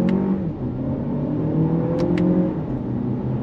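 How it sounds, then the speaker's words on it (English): A 2023 Lexus RX 500h F Sport hybrid SUV with a six-speed automatic accelerates hard, its engine droning in a steady, loud, rising note heard from the cabin, with a couple of faint clicks over it. "I wanna do an acceleration run."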